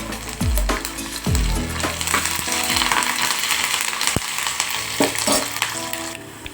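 Curry leaves crackle and sizzle hard in hot oil for temple-offering pulihora, a loud close frying hiss with a few thuds and stirring knocks of the pan and no talking.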